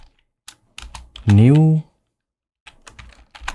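Keys clack on a computer keyboard while a title is typed into Premiere Pro, a scattered series of crisp taps with a pause in the middle. A short spoken word cuts into the typing.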